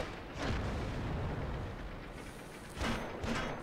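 Tank cannons fire shells in World of Tanks: a couple of heavy booming shots with rumbling tails, the later one sharper and closer, set against continuous low battlefield rumble.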